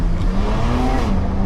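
A four-wheel-drive SUV pulling away hard, its engine note rising in a strong, steady roar, close and loud throughout a brief burst without voices.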